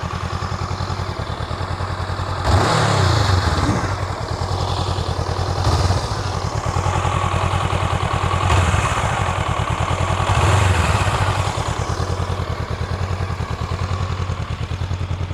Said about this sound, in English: so the parallel twin, so I think it's what it's supposed to sound like